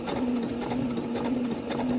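Sewing machine stitching a pant leg of fabric, a steady continuous mechanical whir with a constant hum, close and alone without talk.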